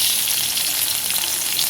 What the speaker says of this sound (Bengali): ওই কড়াইয়ের মধ্যে, ওই তেলের মধ্যে আমি পেঁয়াজটা দিয়ে দিলাম।